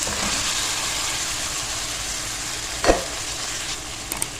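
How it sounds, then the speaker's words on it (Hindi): Chicken pieces frying in a tomato masala for yakhni pulao, a steady close sizzle throughout with one louder stir or scrape near the end, no voices. "इसको हम मसाले के साथ मिक्स करेंगे और चिकन को आपने भूनना लाजमी है"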